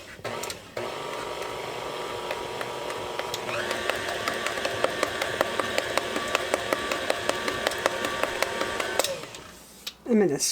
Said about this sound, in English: I love this paddle beater with the scraper on it.